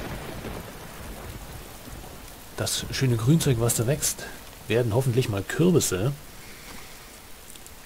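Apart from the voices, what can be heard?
rain in the video game DayZ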